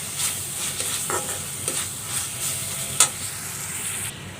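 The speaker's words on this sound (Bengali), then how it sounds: "ভেজে রাখা চিংড়ি মাছগুলো দিয়ে আরও কিছুক্ষণ এটাকে ভালো করে কষিয়ে নেব" Fried prawns being stirred into a spice paste in a pan for a shapla (water lily) curry, with a steady, close sizzle and scattered scraping stir strokes, no talk.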